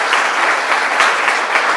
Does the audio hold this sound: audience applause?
yes